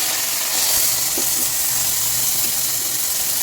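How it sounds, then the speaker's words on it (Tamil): Onion and garlic frying in hot oil over already-popped tempering spices, cooking for a Tamil chicken curry. A steady broadband hiss and sizzle runs throughout at moderate level, with a few faint soft taps. "இப்போ வெங்காயம் பூண்டு சேர்த்துக்கலாம்."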